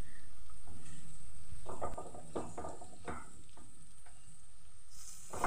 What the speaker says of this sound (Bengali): দেখতেই পাচ্ছ পনিরের টুকরোগুলো ভাজা হয়ে গেছে